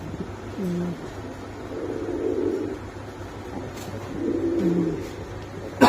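Pigeons, including Andalusian Bukhara and giant American types, coo at a pigeon seller's place, two soft low rolling coo phrases heard close amid background murmur.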